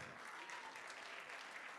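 An audience applauds at a theatre showcase of student performers, a short, faint, steady patter of clapping heard from a distance.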